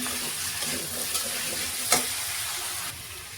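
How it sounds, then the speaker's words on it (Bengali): Potatoes fry with turmeric powder in a pan, a steady oily sizzle with a few scraping stirs of a spoon, close and continuous with no talk. "এবার আলুটা একটু ভালো করে ভেজে নিচ্ছি।"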